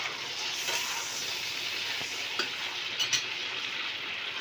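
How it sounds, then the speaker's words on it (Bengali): Vegetables with slit green chillies and tomato frying in a pan for a fish curry with ridge gourd, green banana and potato, giving a steady loud sizzle with a few soft stirring clinks. "তো দিয়ে আবার একসঙ্গে একটু নেড়ে চেড়ে নেবো"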